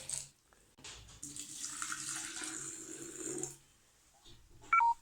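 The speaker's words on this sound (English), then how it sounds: "Then add water to the flowers to make the tea." Water is poured over dried hibiscus flowers to brew tea, a soft continuous splashing pour lasting about two and a half seconds, followed by quiet and a brief clink.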